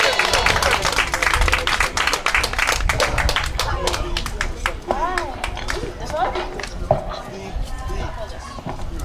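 An audience at a PAL 2022 performance claps and applauds, dense and loud at first and then thinning to scattered claps, with voices in the crowd.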